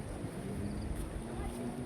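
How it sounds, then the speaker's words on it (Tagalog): Strong wind buffets the microphone at a sandy seaside in Jeddah, with a dense, continuous low rumble and faint background murmur. "Lakas ng hangin."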